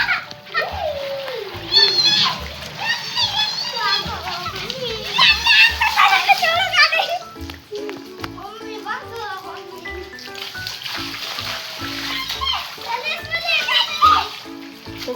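Two young children play and splash in shallow rainwater pooled outdoors after heavy rain in Kanpur, their excited voices and chatter running throughout over intermittent water splashes.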